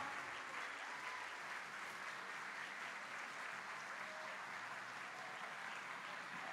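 Steady, dense applause from a large crowd, continuous clapping at an even level throughout without pauses.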